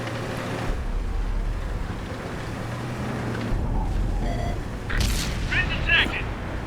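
A tank fires a high-explosive round in the World of Tanks video game, a heavy boom over a constant low engine rumble, with game effects and someone talking over it.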